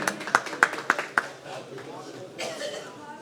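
An audience at a lawyers' association anniversary gathering claps in a short burst of about five sharp, distinct claps, then the sound thins into scattered murmuring and faint talk.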